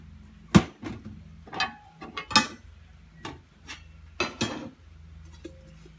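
Parts of a Lodge Sportsman's cast iron grill are lifted out of the box and handled, giving a few sparse metallic clanks and knocks at moderate volume with quiet pauses between, no talk.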